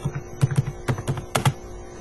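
Java code typed on a computer keyboard, a short run of close, crisp key clicks at an uneven pace with a few sharper strokes, no talking.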